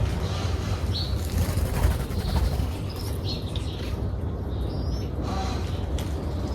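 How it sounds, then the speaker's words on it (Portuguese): Three small birds flap past low in a lush garden, quick wingbeats whooshing by close over a steady outdoor hum, with a few faint chirps scattered through. "Quase que eu tive que me abaixar aqui, passou 3 passarinhos voando aqui"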